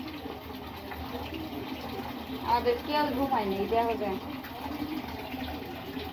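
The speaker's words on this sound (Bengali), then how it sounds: "কল দিয়ে পানি পড়তেছে।" Water running from a tap in a home at night makes a steady, soft rush throughout, beneath people talking close by.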